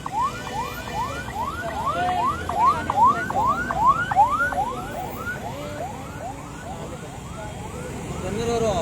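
An ambulance siren wailing in a traffic jam at a state highway circle in Mysuru, rapid rising yelp cycles repeating loudly for several seconds over engine and street noise before fading.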